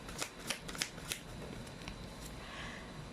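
Tarot cards being shuffled by hand, a quick run of crisp riffling snaps in the first second or so, then softer sliding and rustling of the deck, close and alone with no talk.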